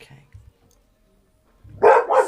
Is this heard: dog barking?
yes